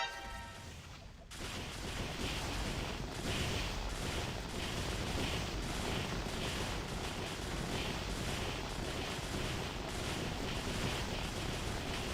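Airship water cannon firing in the online game Mabinogi: after a brief quieter lead-in, a dense, sustained barrage of rapid booming blasts runs continuously, loud and busy throughout.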